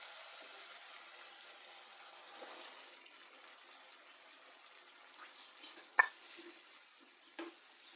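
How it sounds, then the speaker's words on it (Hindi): Boiled chickpeas being stirred into a frying masala in a pan for Rawalpindi-style fried chana, giving a steady low sizzle with faint scraping stirs and a sharp utensil clink near the end. "अब चनों को भी अच्छे से बुनाई कर लूँगी"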